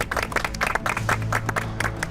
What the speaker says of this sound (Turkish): Ona da bir alkış alalım.